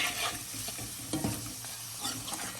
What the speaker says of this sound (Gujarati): ચાલો હવે આપણે આમાં રીંગણું નાખી દઈએ